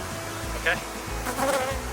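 Close, steady buzzing of many honey bees at a backyard hive, a continuous droning hum with brief louder swells as individual insects pass near.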